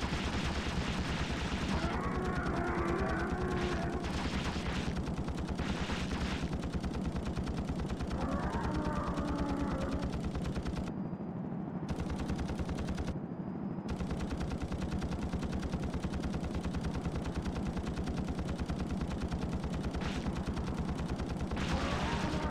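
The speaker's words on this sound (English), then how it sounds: "we're just riddling it with bullets" Sustained, dense automatic gunfire pours into a monster in The Thing video game, a loud continuous rattle of bullets that barely lets up, broken only by two brief pauses.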